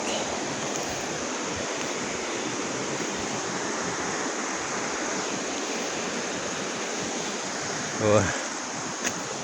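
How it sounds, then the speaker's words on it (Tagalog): Clear water trickling from rocks into a forest stream, a steady dense wash of flowing water that stays continuous throughout, with a brief louder splash or knock near the end. "Galing sa patak ng bato ang tubig"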